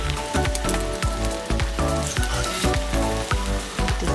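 Egg frying in a pan for a Kenyan-style egg stew, with a loud, close, continuous sizzle and crackle that comes in repeated bursts and has no talk over it.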